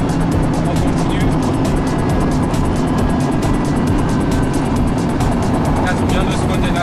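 A car accelerates at full throttle on an aerodrome track during a driving course, its engine roaring loud and close and unbroken throughout, with a voice speaking over it.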